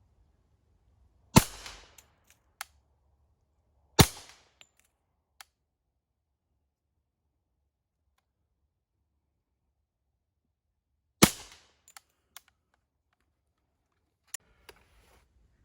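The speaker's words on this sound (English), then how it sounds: "I'm going to shoot offhand and see what happens" Kriss Vector .45 ACP fired offhand, with several sharp, loud gunshots spaced irregularly over a quiet background, each followed by brief clinks and ticks of brass and handling.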